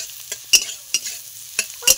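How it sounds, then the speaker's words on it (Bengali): Chopped onions frying in hot oil in a pan, stirred with a few quick scraping strokes, each a short sharp burst of sizzle over a quiet, soft hiss. "দিয়ে দেব পেঁয়াজ, একটু বেশি করে পেঁয়াজ কুচিটা দিচ্ছি আমি।"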